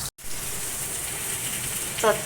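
Papaya and potato pieces frying in a pan, a steady bright sizzle that holds throughout, briefly cut out at the start, with a faint clink near the end.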